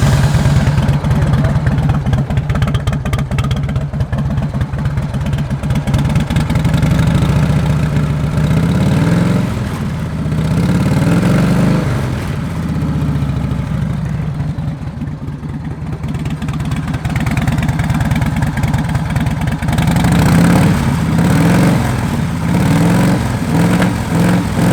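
A Harley-Davidson Dyna Low Rider motorcycle idles after a cold start, a loud, close, steady lumpy rumble with slight surges in pace throughout, no speech over it.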